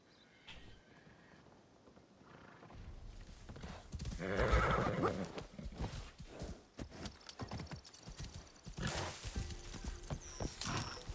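Hooves clop in a running rhythm as a horse gallops in Assassin's Creed Shadows, whinnying loudly partway through, with scattered rustling and thumps around it.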